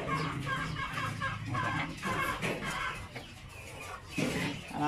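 Mother hens on a Philippine farm cluck steadily and close by, a dense continuous flock of clucking with a brief spoken word over it.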